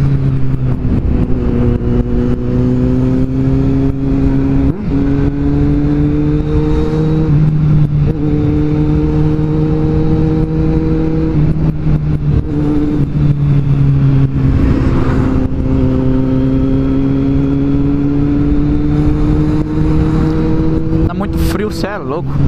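Kawasaki Z750 motorcycle engine heard while riding, a loud steady drone with rising and falling pitch as the bike pulls through the gears, continuous with wind noise and a voice talking over it throughout.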